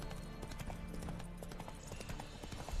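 Roach the horse's hooves clip-clop at a steady trot in The Witcher 3, with the rhythmic hoofbeats close and clear over a soft game background.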